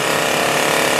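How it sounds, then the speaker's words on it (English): A chainsaw carves a standing tree trunk into comedy and tragedy masks in South Jackson, a steady loud buzzing engine drone running continuously with no pauses. "working it in there with a chainsaw"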